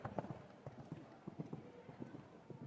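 Horse hooves clip-clop in a quick irregular rhythm on a 1.55m Grand Prix show jumping course, fairly close and distinct, with faint background noise.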